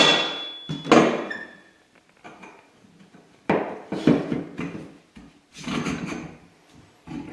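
Parts of a Craftsman 15 amp 10-inch table saw being screwed together during dry-fit assembly: several separate bursts of knocking, scraping and clattering handling noise, close and fairly loud, with quiet gaps between them.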